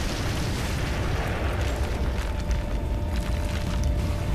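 A tank explodes in the video game Prototype, with a dense, sustained rumbling blast of debris roaring steadily and loudly throughout.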